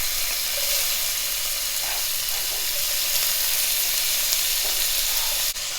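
Chopped onion sizzles steadily in hot oil with whole cinnamon, clove and cardamom, a dense continuous frying hiss with a few faint stirring knocks, close and even throughout.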